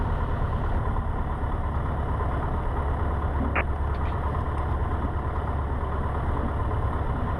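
A Cessna 150 light aircraft engine idles before its run-up, a steady, even drone with no change in pitch and one brief click partway through.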